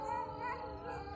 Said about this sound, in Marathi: लय कुत्रे भोकायला लागलेत